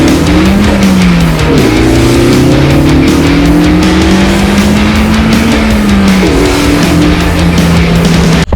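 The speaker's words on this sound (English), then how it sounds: "What an addictive engine." A Honda Civic Type R engine under load while driving, loud and close, its rising revs climbing through gears with brief dips at shifts and a constant roaring drone throughout.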